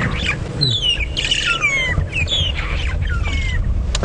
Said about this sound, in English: there's a bird party, so there's lots of different birds feeding around here